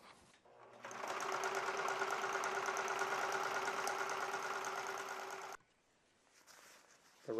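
A sewing machine stitches a seam along a fabric's raw edge, running steadily for about five seconds at a close, even mechanical whir before stopping abruptly, followed by a brief quiet and a faint restart.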